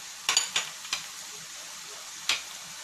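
Spice masala of turmeric, ginger and garlic paste being stirred and fried in a pan for chicken samosa filling, with a few sharp scrapes and clinks of a spoon over a soft, steady sizzle.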